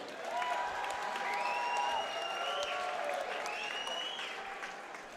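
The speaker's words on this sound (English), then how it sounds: "Round of applause for these two fighters." A crowd at an MMA fight night claps steadily and fairly distant, with the ringing tones of an arena PA or feedback running over the applause throughout.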